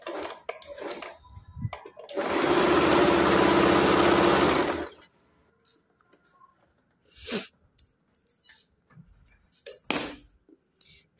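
A sewing machine runs a double stitch along the shoulder seam of a katori blouse in one steady, loud burst of about three seconds, with quieter handling sounds and brief noises before and after.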